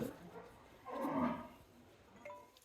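A calm pregnant heifer with no permanent teeth yet gives one low, drawn-out moo in the middle, moderately close, against a quiet farm background. No talking.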